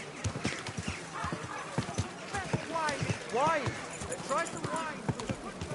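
A horse walks at an easy pace, its hooves clip-clopping in a steady rhythm close by, while a voice talks over the hoofbeats.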